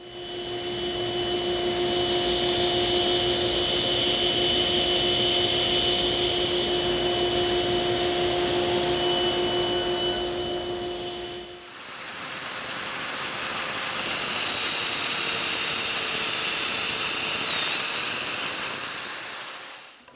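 A table saw cuts miters for a mitered frame on a wooden blanket chest, giving a steady, loud mechanical whine. It pauses briefly, then restarts with a higher, shifting pitch as the blade works through the wood.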